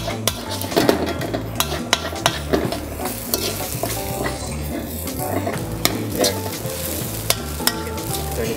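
Fried rice and egg are stirred in a hot wok, sizzling steadily up close while the utensil clinks and scrapes against the metal in irregular strokes.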